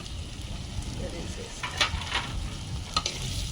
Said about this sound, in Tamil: தக்காளி போட்டுடலாம்.